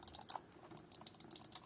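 Buttons on a PowKiddy X18S handheld gaming device click in quick, faint, irregular taps close by, about a dozen in a short burst.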